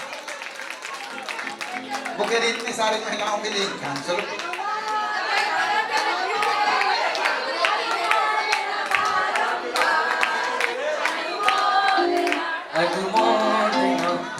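A crowd claps in applause during a Jain religious drama at a Siddh Chakra Mahamandal Vidhan gathering. The clapping is mixed with busy chatter and someone speaking over it throughout.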